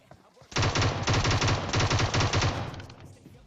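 Rapid automatic gunfire from a PUBG match, a loud sustained burst of closely spaced shots lasting about two seconds with brief gaps, then tailing off.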